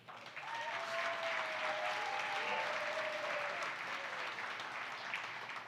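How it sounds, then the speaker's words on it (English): A community crowdfunding event audience applauds local businesses with steady, fairly soft clapping from a small crowd, while some whistles or cheers rise briefly early on. "I wanted to give one more round of applause for our 4 businesses."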